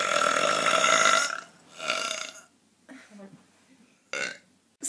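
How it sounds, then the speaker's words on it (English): A woman lets out several loud, drawn-out burps after drinking soda, the first long and deep, then shorter ones separated by pauses, with some speech mixed in. "my friends told me that I burp like a man"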